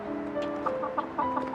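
Hens clucking close by in a short, repeated series of soft clucks over a steady background hum, with no voices.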